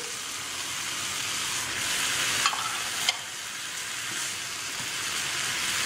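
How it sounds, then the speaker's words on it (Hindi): Finely chopped onion sizzles in a hot pan during samosa filling preparation, an even, steady frying hiss throughout with a couple of brief clicks from stirring. "अब हम इसमें डालेंगे प्याज जो हमने बारीक चॉप की हुई थी, सारी इसमें डाल देंगे"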